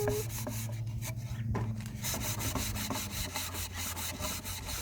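A rag wipes stain onto burned wood in quick, repeated rubbing strokes, a soft rhythmic scuffing close by with faint knocks between passes.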